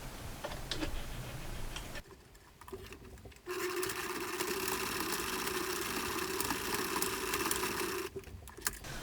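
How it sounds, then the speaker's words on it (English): A sewing machine runs a straight stitch and back stitch to secure elastic on a button headband, making a fast rhythmic whirring chatter in a few bursts, with a brief pause near the start and a short stop near the end. "we are going to do a straight stitch across to lock that in place so it does not move"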